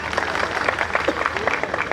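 An audience at a Delhi event claps in brisk, irregular applause, a lively burst of many hands close by with a hint of voices underneath.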